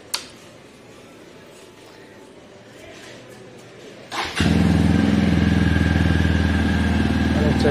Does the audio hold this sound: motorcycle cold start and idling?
yes